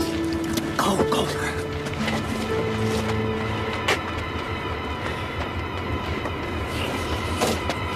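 Old, crowded passenger train cars at night give a steady low rumble with a faint rhythmic clatter, mostly alone with no clear talk.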